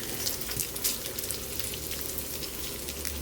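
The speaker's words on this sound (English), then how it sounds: "just render as much fat as you can" Bacon or pancetta rendering slowly in a pan over low heat, giving a steady soft crackle and sizzle of fat that runs on without a break, fairly quiet and close by.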